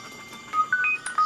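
A mobile phone ringtone plays a short series of bright electronic beeping tones, a few quick notes in succession, heard close and alone.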